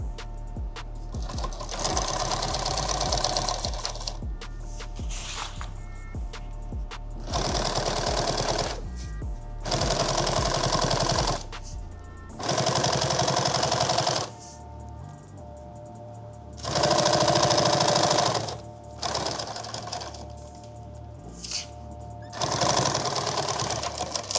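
An industrial sewing machine runs in repeated bursts of a few seconds each while stitching webbing on a custom bag, its fast mechanical chatter starting and stopping with quiet gaps between.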